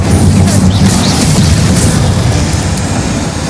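A fire spell bursts in the video game Hogwarts Legacy, a loud, dense roar of explosive fire that holds steady throughout, heavy and close with low rumble and no speech.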